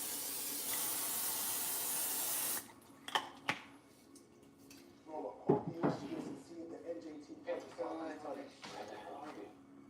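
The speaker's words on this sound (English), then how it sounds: "I'm gonna spray some canola oil in there." A steady broadband spray of canola oil cooking spray hisses for about two and a half seconds, then stops, followed by clattering kitchen handling sounds and soft talk.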